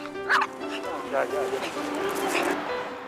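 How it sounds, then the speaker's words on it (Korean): An excited dog outdoors on a walk gives repeated sharp barks and yips, some whiny, mixed with a narrating voice talking over them throughout. "그런데 밖에서도 마구 짖어대네요"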